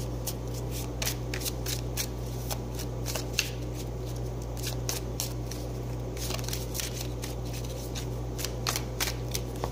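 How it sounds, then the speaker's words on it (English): A tarot card deck is shuffled and cut by hand, sounding as rapid, repeated riffling flicks and light slaps up close over a low steady hum, with no one speaking. "cut the deck again"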